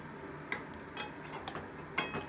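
Metal utensil scraping and clinking in a pan while mutton is stir-fried with salt and turmeric, a few sharp taps at irregular intervals over a quiet background hiss.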